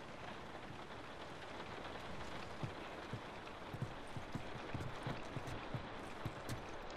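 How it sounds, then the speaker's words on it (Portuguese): Rain in the video game The Last of Us falls as a steady, soft wash of drops, with faint footstep-like thuds running through the middle and latter part. "A gente vai sair na chuva, gente. vou pegar um resfriado."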